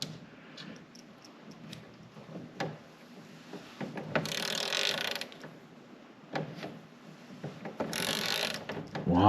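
A torque wrench ratchets while a fastener is tightened by a handyman on a job. Close, dry mechanical clicking comes in short bursts and stops between them, with a louder pass near the middle and another near the end.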